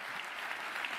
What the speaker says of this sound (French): s'il vous plaît, applaudissez-le, joignez-vous à moi.